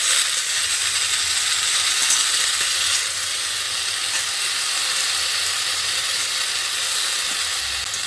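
Chopped water spinach goes into a pan of aubergine and potato frying with browned onion, giving a loud, steady sizzle and hiss that runs unbroken throughout with no talk.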